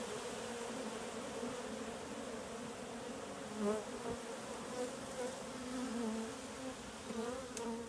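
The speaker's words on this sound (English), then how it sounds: "We've got some bees on us." A steady, dense hum of many honey bees buzzing close around a hive box, continuous and fairly loud with small swells, no talking.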